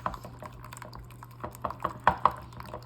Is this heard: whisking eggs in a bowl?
yes